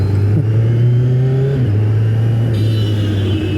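A Kawasaki Z900 motorcycle engine rides along after a service, a loud, steady close drone with a brief dip in pitch midway, then holding smooth and even throughout.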